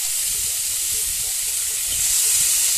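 Potatoes fry in a kadai with a steady, loud, even hiss of sizzling oil that keeps going without a break.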